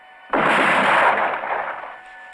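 A single loud rifle volley from a firing squad cracks sharply, then decays into a rolling echo over about two seconds.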